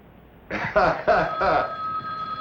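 A telephone bell rings in an early-1960s setting, four short bursts in quick succession followed by a lingering tone, fairly close and loud.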